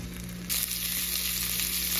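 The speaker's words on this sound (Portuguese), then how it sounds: "tá fritando direitinho e não tá abrindo" Bacon frying in a pan, a loud, continuous hissing sizzle that swells slightly partway through, heard close with no voices.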